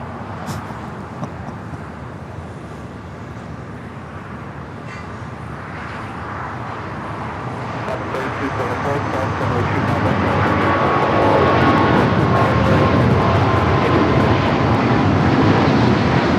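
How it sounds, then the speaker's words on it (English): A United Airlines Boeing 777-200 takes off at Los Angeles airport, jet engine roar building from a broad rumble to a loud, sustained thrust, heard from outside with some background noise. "This is United Airlines 1158 taking off to Honolulu on the 777-200."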